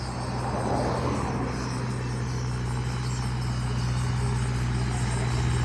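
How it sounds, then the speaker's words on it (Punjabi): A tractor engine drones loudly and steadily as it climbs a slope, a constant low rumble with a deep hum throughout and no voices. "ਨਾਲੇ ਚੜਾਈ ਚੜਦਾ ਟਰੈਕਟਰ"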